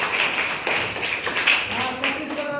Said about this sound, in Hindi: इसलिए एक बार जोरदार ताली